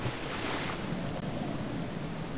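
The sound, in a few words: water and waterfall in Indiana Jones and the Infernal Machine video game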